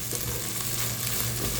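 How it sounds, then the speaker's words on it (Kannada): Chopped capsicum fries in a pan of spiced chitranna masala, giving a loud, dense, close sizzle with steady stirring and a low hum underneath, and no talking. "ಕ್ಯಾಪ್ಸಿಕಮ್ ಹಾಕೋಣ ಈಗ."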